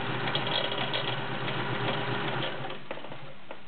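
Vintage Kenmore model 1430 sewing machine with a 1-amp motor, serviced and clean, sewing with a fast steady whirring mechanical drone, close, easing slightly near the end, without talking.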